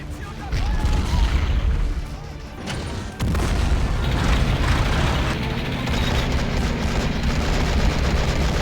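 Continuous heavy artillery and explosions in the war video game Men of War, dense booming barrages rolling without pause, loud and close, with a short dip before the bombardment swells again.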